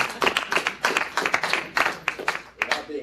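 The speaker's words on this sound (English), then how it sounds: "You're welcome to applaud." An audience at a child welfare advisory committee address applauds in a steady burst of overlapping hand claps that holds for a few seconds, with no talking.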